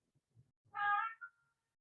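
A cat gives one clear, fairly close meow with a short rising tail, after a few faint soft sounds, in a quiet room during a stretching session.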